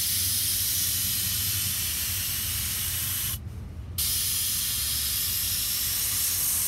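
Airbrush spraying black paint through a stencil onto a shirt, a steady close hiss running almost continuously with a brief pause near the middle before it resumes.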